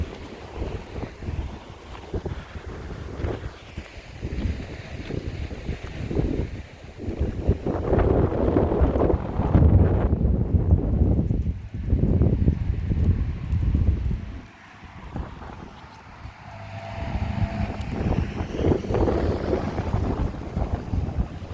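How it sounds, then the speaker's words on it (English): Strong wind buffets the microphone on a very windy day, roaring in long gusts with a brief lull midway and no talking. "Oh, it is windy."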